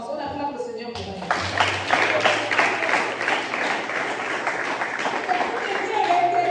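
A church congregation bursts into sustained applause and acclamation, dense clapping rising after a spoken line and continuing steadily with voices mixed in.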